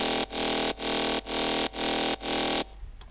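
A synth bass from a Serum preset plays with no pitch bending: five bright, buzzy, sustained notes repeat in an even rhythm with short gaps between them, then end abruptly.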